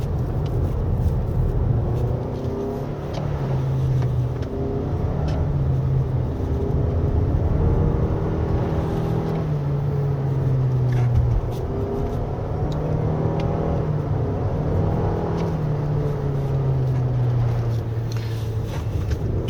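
A 2023 Toyota RAV4 Hybrid AWD in sport mode, its engine droning steadily and loud inside the cabin as it climbs and falls in pitch with RPM through the bends of a rainy mountain road, with no talk over it.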